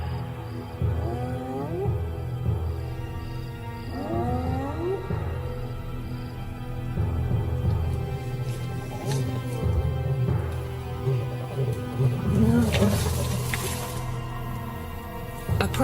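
A deposed hyena clan queen calls loudly and repeatedly in the wild, giving rising whooping cries early on, then a noisier stretch of overlapping animal calls and rustling.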